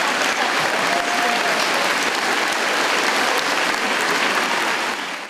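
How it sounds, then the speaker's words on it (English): Applause from a school assembly honouring teachers and staff. Many hands clap loudly and steadily in a dense, sustained wash with no pauses, fading slightly at the very end. "Could all the teachers and all the staff please stand for a round of applause?"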